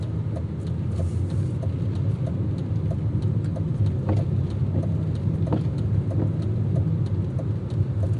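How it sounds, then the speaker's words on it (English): A car drives round a roundabout near Jarrow, its engine and road noise forming a steady, close rumble throughout with faint ticking and small bumps, no voices. "Now I'm going to go right round the roundabout, back on myself."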